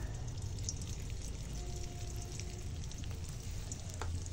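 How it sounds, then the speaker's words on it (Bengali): Asafoetida sizzling in hot oil in a wok, a steady close crackling hiss with faint clinks, no voices. "এখন কড়াই তেল দিয়েছি, এখন হিং দেবো"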